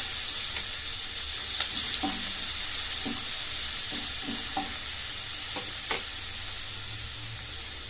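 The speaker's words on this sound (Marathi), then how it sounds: "मी आता हे लसूण आणि कोथिंबीर ह्याची फोडणी देते" Garlic and coriander dropped into hot oil for a Marathi tempering, a steady sizzle with a spoon scraping and stirring the pan in a few soft taps.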